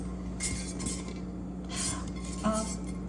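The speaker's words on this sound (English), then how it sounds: "I'm using a regular pot like this." A regular thick-walled non-stick cooking pot is handled, giving a few light metallic clinks and knocks spread over a few seconds against a steady background hum, fairly close and moderately soft.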